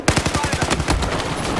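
Rapid bursts of automatic gunfire ring out in a Battlefield 4 team deathmatch on the Floodzone map, a loud, closely spaced rattle of shots that runs throughout.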